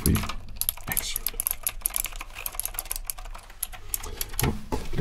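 Close-up typing on a computer keyboard: a dense, steady stream of quick plastic key clicks across the whole stretch, with a soft voice faintly underneath at moments.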